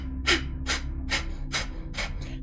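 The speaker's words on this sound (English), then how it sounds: "you're going to concentrate on very rapid exhales" Five rapid, sharp breath exhales forced out from the stomach, evenly spaced and close, each a short breathy burst over a steady low background hum.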